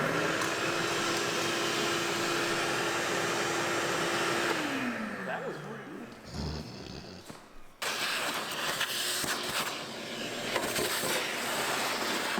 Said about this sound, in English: we're going to start with vacuuming up our authentic Oklahoma dirt